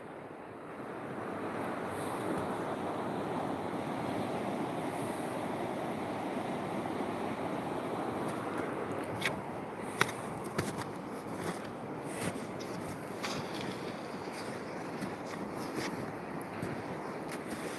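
A rising river in the Carpathian mountains rushes continuously in a broad, steady wash, with wind buffeting the microphone and a few faint knocks later on.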